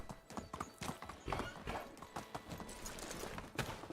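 A horse clip-clops at a steady trot in the medieval life-sim game Medieval Dynasty, producing quick, close hoof strikes with a brief neigh and no voices.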